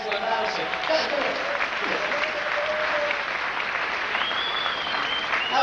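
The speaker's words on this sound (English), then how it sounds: "How about a big round of applause for that excellent bouncing?" An audience claps loudly and steadily for a young performer's bouncing act at a live show, a dense sustained round of applause with a few faint voices and whistles mixed in.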